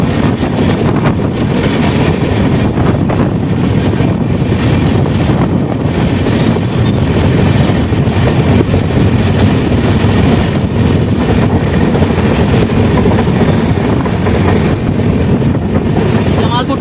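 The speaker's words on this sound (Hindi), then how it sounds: "Malda town Kiul intercity express train crossing." The Malda Town–Kiul Intercity Express rushes past at close range, a loud, continuous roar of rolling wheels and rattling coaches with wind buffeting over it throughout.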